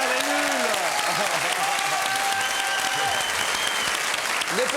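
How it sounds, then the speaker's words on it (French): Sustained, loud audience applause fills a French comedy TV show studio for Les Nuls, dense clapping throughout with a few voices and whistles faintly mixed in. "on peut applaudir les nuls"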